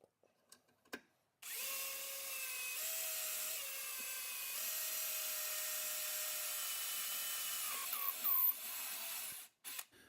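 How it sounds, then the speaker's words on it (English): A power drill whines steadily for several seconds, its pitch shifting slightly as it bores through metal stock, then stops abruptly; short clicks before and after. "So it should be able to drill straight on through and out the back side."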